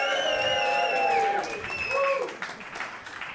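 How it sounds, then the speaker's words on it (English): Comedy night crowd at a stand-up show cheering loudly, with whoops and hollered voices rising over clapping, tapering off near the end as the noise thins. "Can we have a massive cheer for everyone?"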